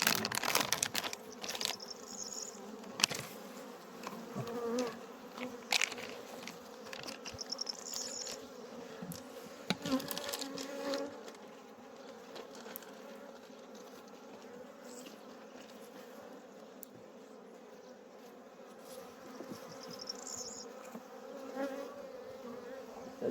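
Honey bees buzz around beehives in a continuous, fairly quiet drone, with individual bees passing near, occasional crinkling and knocking from hive handling, and no talking.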